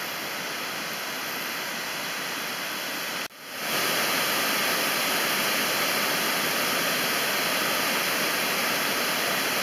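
Water pours over the roughly 16-foot Walter Hill hydro-electric dam in a steady, dense roar that briefly dips before surging back at full strength.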